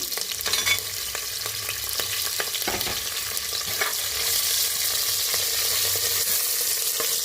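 Cashews sizzle steadily while browning in a pan for palak khichdi alongside green chillies, with stirring clinks scattered over a continuous close frying hiss.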